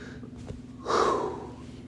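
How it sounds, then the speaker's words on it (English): One heavy, breathy exhale rushes out near the microphone, rising and fading over about half a second against a quiet background hum, with no words spoken. "Let me breathe."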